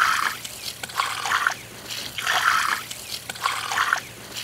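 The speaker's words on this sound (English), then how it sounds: "Let's throw some water on it and make it pop." Water poured onto a freshly cut wood slab splashes and trickles in three surges, each burst rising and fading over about a second, close by with no voices.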